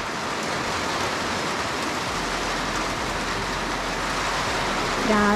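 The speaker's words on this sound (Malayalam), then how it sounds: "നല്ല മഴയുണ്ട്." Heavy rain pours steadily in a hill valley near Kodaikanal, a dense continuous hiss with no breaks, fairly loud and close.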